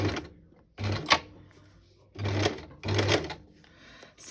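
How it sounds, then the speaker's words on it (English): An old-fashioned basic sewing machine stitching paper for a mini journal, running in several short bursts with pauses between them, close and clear. "So I've got quite an old-fashioned sewing machine, I suppose."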